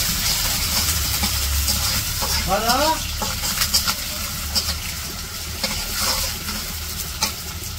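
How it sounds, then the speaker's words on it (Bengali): Onions and green chilies frying in oil in a village kitchen wok, stirred steadily: a continuous close sizzle with scraping strokes and a brief hissing burst, and a faint voice low in the background. "পেঁয়াজ কাঁচামরিচ ভাজা হয়েছে"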